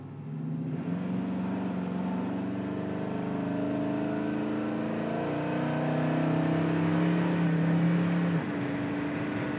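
A 1957 Chevrolet 3200 truck accelerates on the road, its engine note climbing and shifting steadily over a continuous drone of tire and road noise, heard from inside the cab.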